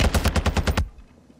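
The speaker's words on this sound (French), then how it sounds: "Je tire sur le gars, ça tire sur le bâtiment quoi" Rapid automatic gunfire from a shooter video game: a loud, close burst of about eight evenly spaced shots that cuts off abruptly, followed by a brief fading tail.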